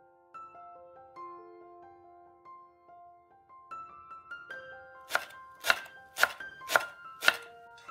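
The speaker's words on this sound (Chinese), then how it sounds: "这个粉条呢，我们就给它泡软了。泡软了以后呢，稍稍的降降温，然后给它切碎。" Knife blows chop softened glass noodles for dumpling filling, a quick run of about five crisp, loud strikes near the end, preceded by gentle background music alone.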